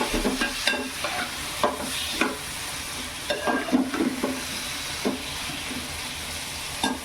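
Prawns frying in a pan with brinjal, tomato and mango for a prawn curry, a continuous sizzle broken by repeated scraping strokes of a spatula stirring, close and moderately loud with no speech.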